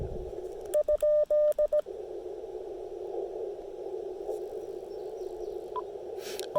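A short burst of CW Morse code tones on an amateur radio during a Parks on the Air activation, a steady keyed tone pulsing briefly over constant band hiss and static, which then continues alone.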